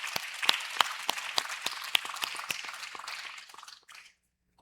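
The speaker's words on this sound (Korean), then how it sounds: "제가 그런 성도님들을 위해서 한번 격려의 박수 한번 하겠습니다." Congregation applause at a Korean Sunday church service, many sharp distinct claps in a loose rhythm that thin out and fade to silence near the end.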